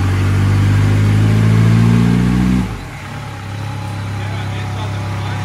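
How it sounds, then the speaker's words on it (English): A small diesel engine, cold, revs hard and steady at high pitch for a couple of seconds, then drops back to a lower, rumbling idle, heard close up in a hangar. "Cold revs are good for it, dude. Cold revs are great."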